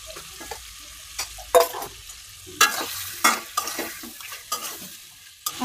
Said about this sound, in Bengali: মশলাটা আমার বোনা হয়ে গেছে, এখন মাছটি দিয়ে দিলাম।